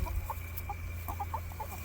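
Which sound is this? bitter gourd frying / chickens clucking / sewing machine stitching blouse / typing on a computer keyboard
chickens clucking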